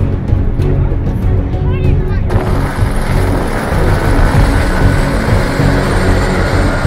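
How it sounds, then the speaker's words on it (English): RAAF aircraft A41-210 passing about 300 feet above Brisbane at a river fire event, a loud, continuous broadband engine roar that fills the whole stretch, with crowd noise and voices beneath it. "the A41-210 flies just 300 feet above Brisbane"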